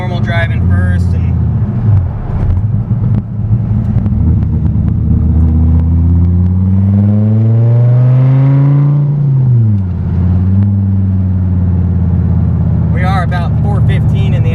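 A Gen 5 car with a very tight lobe center cam rumbles loudly through normal around-town driving, its engine rising in a long rev and then dropping back to a lumpy idle-like burble throughout.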